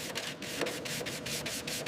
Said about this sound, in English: Manual sanding in those tight spots around rivets and seams to get every crevice clean.